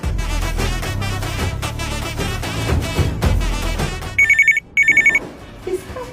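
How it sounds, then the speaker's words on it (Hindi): A telephone rings indoors in a home, with two short electronic ring bursts cutting in after a stretch of louder background noise and clatter. "किसका फोन आ गया?"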